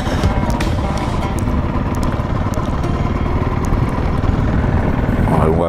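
A Honda CRF 300L motorcycle being ridden, its single-cylinder engine giving a steady, close, rapid thumping drone with constant loudness and a little rattle throughout.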